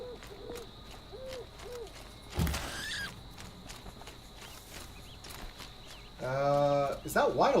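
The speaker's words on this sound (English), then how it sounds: "I heard an owl." Owl hooting in the video game Horizon Zero Dawn, a few soft, evenly spaced hoots early on amid footsteps and ambient game noise, with a loud animal call and a burst of noise later and a voice speaking in between.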